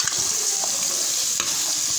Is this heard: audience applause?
no